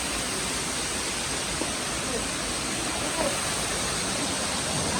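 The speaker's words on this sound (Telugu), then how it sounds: "ఇక్కడ నుంచి ఇట్లా వస్తున్నాయి వాటర్." Water pours steadily down a waterfall at Araku, a broad, dense rushing roar that stays loud and unbroken from start to finish, with no clear voices over it.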